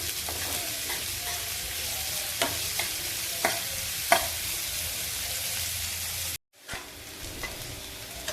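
Chopped onion fries in a pan with a steady hiss of sizzling, broken by occasional sharp taps and scrapes of a stirring spoon, then a brief cut to silence before the sizzle resumes; no talking.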